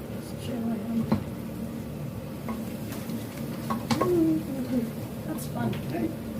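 A spoon stirring flour and butter roux in a pan for fish pie, a soft sizzle with scattered scrapes and taps against the metal, under a person talking.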